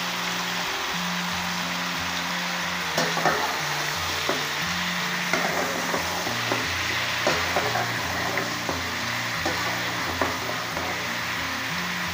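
Eggplant frying in a pan for a home-style sabzi with potatoes, a steady close sizzle with soft clinks and scraping stirs throughout, no talking.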